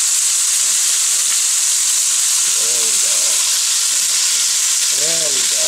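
German beef rouladen sizzle loudly in a hot pan just after being flipped, a dense, intense hiss that never lets up, with a couple of short murmuring voice sounds underneath.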